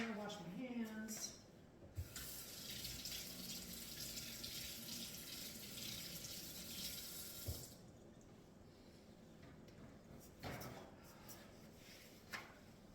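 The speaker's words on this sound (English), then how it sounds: "wash my hands." Kitchen tap water running steadily into a sink while someone washes their hands, a continuous close splashing rush with brief clunks as the flow starts and stops.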